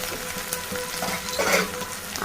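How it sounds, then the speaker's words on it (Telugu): Mustard seeds and cumin sizzling in hot oil in a pan as tempering for an onion-stalk and okra fry, a steady crackling hiss with a brief louder flare near the end. "బాండీ పెట్టి ఆయిల్ పోసి హీట్ ఎక్కాక పోపు కింద ఆవాలు జీలకర్ర వేసాము"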